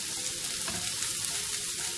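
Green chilies frying in a pan, shown here with a loud, dense, steady sizzle and crackle up close, with faint stirring movement under it and no pauses.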